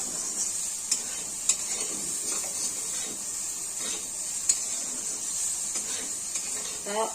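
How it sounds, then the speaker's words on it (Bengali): Pumpkin, potato and bitter gourd fry in a pan with a steady bright sizzle, broken by a few sharp clicks and scrapes of stirring. "এখন আমার ভাজাটা হয়ে গেছে"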